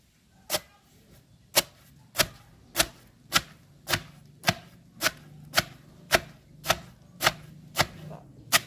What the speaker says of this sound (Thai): เอาปูมาตำเพื่อจะกรองเอาเนื้อมันก่อนนะคะทุกคน